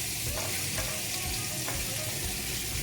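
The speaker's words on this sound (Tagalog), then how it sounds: "I-fry lang natin siya ng konti." Chicken pieces for tandoori chicken fry in a pan until slightly crispy, giving a steady, soft, continuous sizzle with faint stirring.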